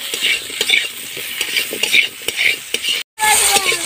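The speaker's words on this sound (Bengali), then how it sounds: "কড়াইতে দিয়ে দেবো সরষের তেল, দিয়ে এবার আমি আলুগুলো ভেজে নেব।" Potatoes with salt and turmeric fry in mustard oil in a wok and are stirred with a metal utensil, making a loud sizzle broken by rhythmic scraping clanks and a brief cut near the end.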